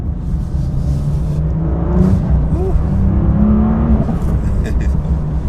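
BMW M2 Competition on a test drive, engine rumbling and revving through downshifts with a few short exhaust pops crackling over the steady drone, heard from inside the car.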